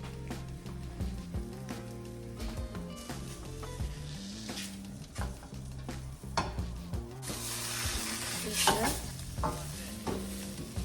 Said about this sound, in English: And it's gonna sizzle, trust me.